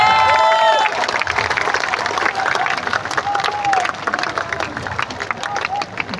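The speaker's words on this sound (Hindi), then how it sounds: "जोरदार ताली बजाइए" Loud, sustained applause from a large crowd at a political rally in Bihar welcoming Manoj Bharti as acting party president, with scattered cheers, crowd murmur and a brief tonal sound at the start.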